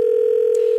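A steady, loud telephone dial tone hums without a break as a contestant is called on a TV talk show, with no voices over it.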